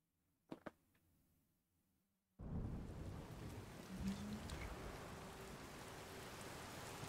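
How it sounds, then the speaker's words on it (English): In the video game Zelda Tears of the Kingdom, a couple of sharp thunder cracks sound over quiet ambience, then heavy rain abruptly pours in as a dense, steady roar with a low rumble, fairly loud and without talk. "Thunder and lightning."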